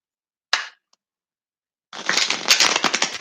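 A short snap is followed, after a pause, by a rapid crackling riffle of tarot cards being shuffled, close and fairly loud.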